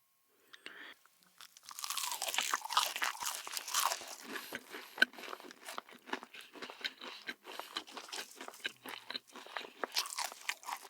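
Crunchy onion rings being bitten and chewed up close, with dense crisp crunches starting after a brief pause and continuing steadily, loud and alone without talk.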